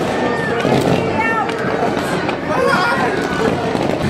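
New Year's Eve fireworks in Rome bang and crackle densely, loud and continuous, amid crowd noise and voices talking.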